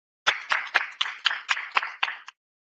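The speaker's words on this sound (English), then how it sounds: "So I think that they deserve a big round of applause." Clapping at a school board meeting comes as about nine crisp, evenly spaced claps, close and clear against silence, then stops abruptly.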